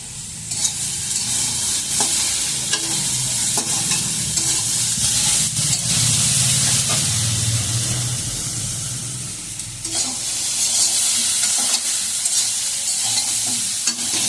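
Fried soybean chunks and potatoes are stirred in a hot pan with salt, giving a loud, steady sizzle with scraping stirs throughout and no voices.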